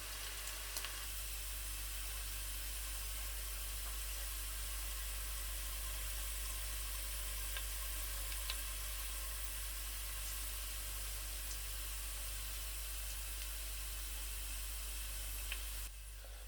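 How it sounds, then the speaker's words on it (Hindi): Sliced onions cook over low heat in a pan for kala chana rice, giving a faint, even sizzle that runs steadily without pause, with occasional tiny pops. "तकरीबन 10 मिनट तक हल्की आंच पर प्याज को पकाने के बाद प्याज जो है वो लाइट सा ब्राउन हो जाएगा।"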